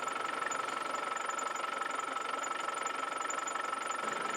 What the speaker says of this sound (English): So let's run the vehicle up so it's nice and warm now.